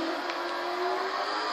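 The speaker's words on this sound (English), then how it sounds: "Go faster, car, go faster." A Corvette racing car accelerates in a steady, high whirring engine tone that rises slightly and stays continuous and fairly faint throughout the brief moment.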